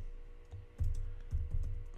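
A computer keyboard is typed on in short bursts of close, soft clattering keystrokes, with brief pauses between runs and no voices.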